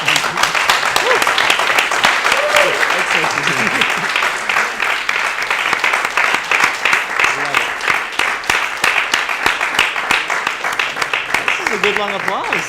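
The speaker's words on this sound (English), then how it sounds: "big long applause." An audience at a crypto fireside chat on stage claps in a long, loud, dense round of applause that holds steady throughout, with voices faintly mixed in.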